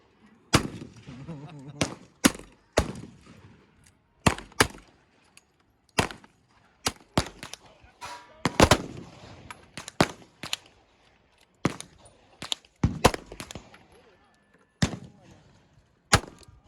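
Sharp, loud gunshots from firearms at outdoor target practice aimed at a metal plate, fired singly and in quick pairs at irregular intervals over a quiet background, with brief talk between shots.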